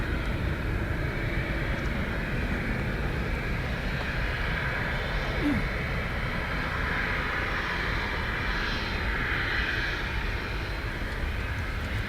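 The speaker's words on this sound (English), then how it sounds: "Very slow taxi speed from the Egypt Air." EgyptAir airliner taxiing slowly at Dublin Airport, a steady, continuous engine rumble and whine holding at an even level throughout, moderately distant with no voices.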